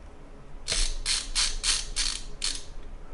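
A screwdriver turns a small screw into the fan assembly of an MSI RTX 3070 Ti Gaming X Trio graphics card, giving about six crisp ratcheting clicks in a close, quiet burst with no talking.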